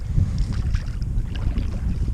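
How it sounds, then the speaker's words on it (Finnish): An outboard motor on a boat running on a lake, a low rumbling drone with choppy wind buffeting the microphone, steady and close throughout with no talk. "tuo moottori pörisee kuitenkin sen verran kovaa"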